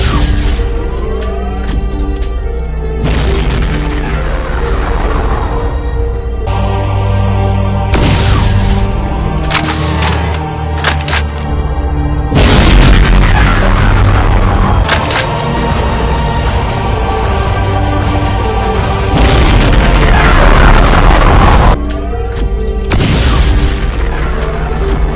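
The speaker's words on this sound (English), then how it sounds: "Twice the BFG 9000 shots." BFG 9000 plasma shots detonating in modded Doom amid a cyberdemon-filled fight: repeated booming blasts and crashing explosions, loud and dense with overlapping bursts and ringing tails over a steady game backdrop.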